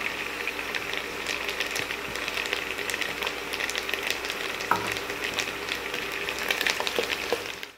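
Curry leaves and dry prawns frying in a pan, a loud, continuous sizzle with occasional scrape and stir sounds throughout.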